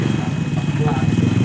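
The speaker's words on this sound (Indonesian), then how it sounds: "Ada suara motor lagi berisik tuh." A Honda Beat scooter engine under repair for lost ignition runs close by, a steady rough noisy drone with a continuous low rumble throughout.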